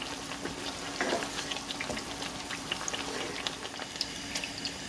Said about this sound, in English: While I'm frying up our tortillas, I'm gonna go ahead and stir our beans occasionally